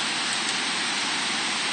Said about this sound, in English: As you can see right now, it's raining.